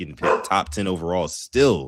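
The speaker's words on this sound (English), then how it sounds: "Sorry if you guys can hear my dog in the background." A dog barks in the background of a live sports draft broadcast, a few brief yips and woofs mixed under steady, close commentary from a man.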